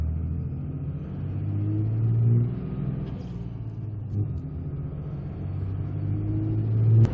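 Steady low road rumble inside a truck cruising on a highway on 37-inch Venom Ice Hunter winter tires, continuous drone with gentle swells in loudness and no talking.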